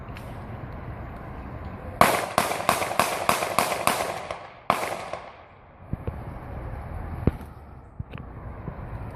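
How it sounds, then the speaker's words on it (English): Eight sharp gunshots ring out loud and close, seven fired in rapid succession followed by an eighth after a short pause, with quiet background afterward. "You're going to hear 8 gunshots, okay? 7 in quick succession, and then an 8th after a slight pause."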